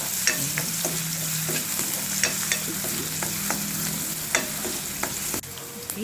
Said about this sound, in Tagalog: gisahon ang ato ang sibuyas o kanang ahos